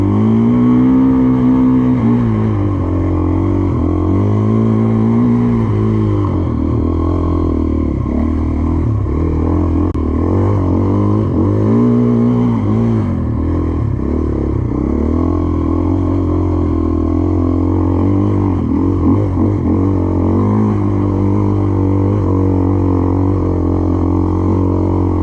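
A 2024 Gas Gas EC450F dirt bike rides uphill in first gear on a trail, its engine loud and close with a steady throb and repeated throttle surges and dips.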